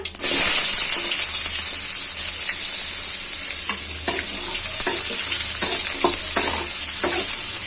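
A chopped medium onion fries in hot oil for potato chop, giving a loud, continuous sizzle from start to finish, broken by occasional scraping clicks as it is stirred, with no one speaking.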